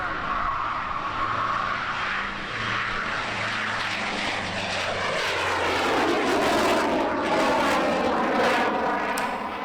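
Honeywell's test aircraft flies past at the EAA AirVenture Oshkosh 2018 airshow, a loud steady engine roar that swells and shifts in pitch as it goes by, heard alone without talk.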